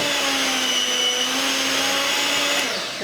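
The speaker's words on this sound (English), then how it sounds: "Now my mixer is a very fast one." A fast electric mixer creams chocolate cake batter in a bowl, a loud continuous motor whine with steady pitch that holds for a few seconds and then eases slightly.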